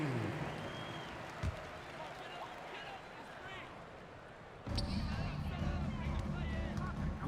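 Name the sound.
crowd applause in NBA 2K26 video game arena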